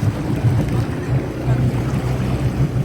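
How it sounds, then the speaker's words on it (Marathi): A jet boat's engine drones steadily on the water near an island landing, a continuous low rumble with a slight surging pulse and no break. "जेट बोट आहे जेट बोट"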